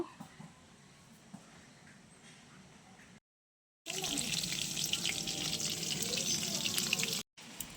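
Chicken pakoras fry in hot oil over low heat: a steady, dense, close sizzle that drops out briefly, then returns much louder and fuller, crackling continuously with no talking.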